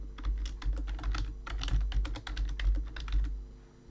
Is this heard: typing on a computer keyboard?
yes